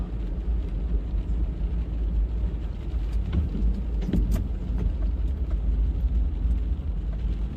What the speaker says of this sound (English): All this is water I'm driving through right now.